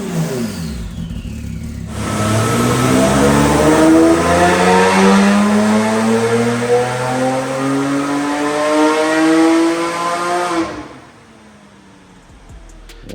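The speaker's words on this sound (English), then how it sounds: "it sounds epic with that titanium exhaust on it now" A speed yellow Porsche 997 GT2 with a titanium exhaust, hybrid turbos and bolt-on upgrades revs hard, its engine climbing in pitch through a long, loud pull before cutting off abruptly, leaving quiet idle.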